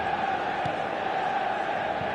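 A dense, steady roar of stadium crowd noise in the football game eFootball 2025, loud and unbroken throughout with a sustained chanting hum and no clear individual voices.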